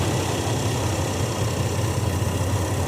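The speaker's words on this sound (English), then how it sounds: "I'll just sit here and watch it for a while, rev it up a few times." A 1993 Chevy S10 engine idles steadily with a low, even rumble and faint vibration, close by and alone, with no clear revs.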